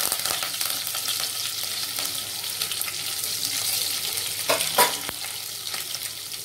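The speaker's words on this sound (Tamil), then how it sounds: "ஜீரகம், கடுகு சேர்த்துக்கிறோம். அது பொரிஞ்ச உடனே கருவேப்பிலை போட்டுக்கிறோம்." Cumin, mustard seeds and curry leaves spit and crackle in hot coconut and sesame oil, a close, busy sizzle with a few sharp pops near the end.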